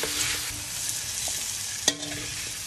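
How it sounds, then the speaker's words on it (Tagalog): Steady close sizzling of carrots and potatoes frying in hot oil, with a sharp clank of a utensil against the pan partway through. "Prito lang natin mabilis tong carrot at saka itong patatas"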